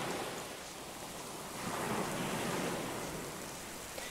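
Steady rain pours in the survival game Oldowan, a dense, even hiss that swells slightly midway and continues without pause.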